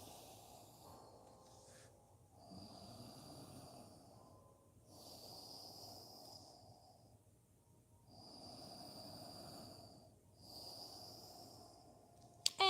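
Slow, deliberate yoga breathing, close and soft: several long airy inhales and exhales in a steady cycle, some with a faint whistling hiss, with no talking over them.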